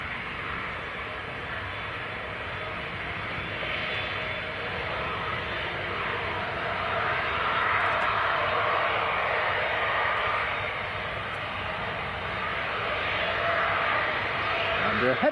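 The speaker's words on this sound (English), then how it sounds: "Looks like this Ryanair is holding for the landing Jet 2." A Jet2 airliner lands at Leeds Bradford Airport, giving a steady, broad engine roar at moderate distance that swells slightly in the middle and stays fairly even throughout.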